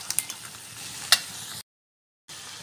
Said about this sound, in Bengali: এবারে এটা আমি সুন্দর করে কষিয়ে নেব।